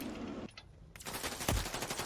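Gunfire in a multiplayer shooter video game: loud, rapid bursts of automatic fire that break off for a moment, then resume as a dense, sustained volley.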